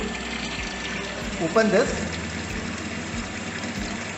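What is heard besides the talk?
water flowing through orifice meter pipe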